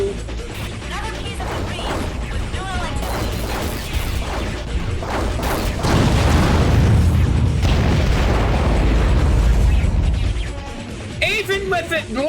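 Loud booming explosions and crashing mechanical clatter from the underwater video game AquaNox, swelling to a dense heavy rumble in the middle with a voice talking over parts of it.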